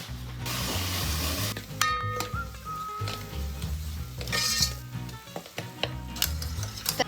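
Chicken masala sizzles in oil in a pan while being stirred, a steady frying hiss broken by spoon scrapes and metallic clinks, with faint background music underneath.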